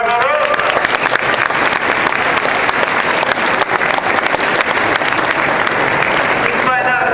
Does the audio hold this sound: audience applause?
yes